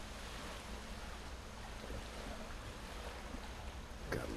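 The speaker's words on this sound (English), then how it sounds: "sound of the waves lapping" Gentle waves lap steadily on a lake shore at Mazinaw, a soft continuous wash close by with light wind, and one slightly louder splash near the end; no one speaks.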